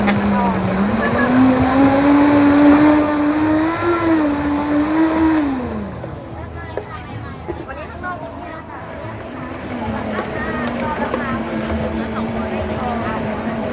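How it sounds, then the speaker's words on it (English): A strong blender at a street stall in Bangkok crushes ice for a coconut smoothie, a loud steady whir whose pitch rises then drops and settles, with voices talking over it. "a strong blender to make sure the ice is crushed really well"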